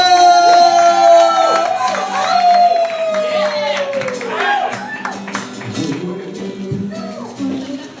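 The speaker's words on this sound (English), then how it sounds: "please give a warm round of applause for the one, the only, the greatest Late Fear's own, Will Maxwell" Studio audience applauds and cheers for late-night host Will Maxwell on Late Fear, a dense, loud wash of clapping with whoops and shouts, plus a bright held tone riding over it, continuing strongly for several seconds.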